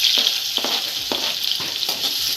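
Onion hitting hot oil already seasoned with cumin, mustard seeds and chopped garlic, giving a loud, continuous hiss and crackle with a few spoon scrapes at regular intervals.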